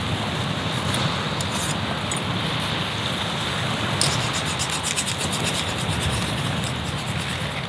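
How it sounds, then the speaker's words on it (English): A hand file rasps along a machete blade, sharpening its point outdoors on an island in monsoon season, giving steady close scraping strokes over a constant rain-like hiss, with no talking. "So I have the file here that I use for my machete to sharpen that."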